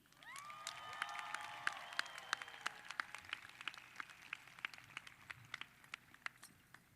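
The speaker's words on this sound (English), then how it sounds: "please join me in giving a grand round of applause for the class of 2020 valedictorian, Evan He." Applause and scattered cheers from a graduation audience at a high school commencement as the class valedictorian is introduced, a steady distant patter with sharp individual claps over a whistle-like cheer early on.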